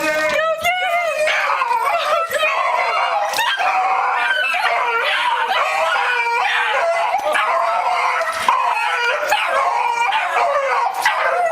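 Several dogs bark, yip, whimper and howl excitedly as they greet returning owners, a loud, continuous, overlapping chorus with squeaky high cries throughout.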